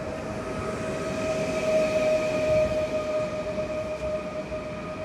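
An S1 passenger train from Częstochowa or Dąbrowa Górnicza Ząbkowice pulls into Katowice station. A steady, close rumble runs throughout, with sustained high squealing tones held over it and no voices.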